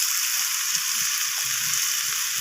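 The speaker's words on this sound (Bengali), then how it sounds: "সমস্ত কিছু মশলা আমি সবজির সাথে এইভাবে নাড়াচাড়া করে একটু ভাজা ভাজা করে নিচ্ছি" Vegetables fry in oil with turmeric, red chilli powder and cumin powder, giving a steady, close hiss and crackle with faint scraping of stirring underneath.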